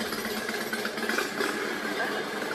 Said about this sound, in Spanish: vamos a estar grabando en motocicleta, porque con el tráfico que hay ahorita es prácticamente imposible en el coche